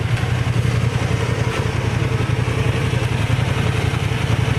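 Big bikes roll up and idle close by, a loud, continuous throbbing engine rumble with a fast, even pulse and some mechanical clatter, alone without talk.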